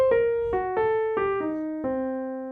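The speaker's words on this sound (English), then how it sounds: "descending arpeggio motion is going to sound like this" A single clean instrument plays a slow descending line of separate plucked notes, each stepping lower and ringing briefly, alone and fairly soft.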